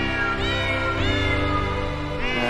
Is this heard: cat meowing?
yes